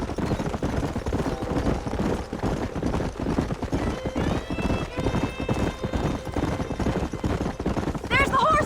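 Horses clip-clopping at a gallop in a Western open-world action game, a steady rapid hoofbeat rhythm under dense music and game sound, with voices speaking over it.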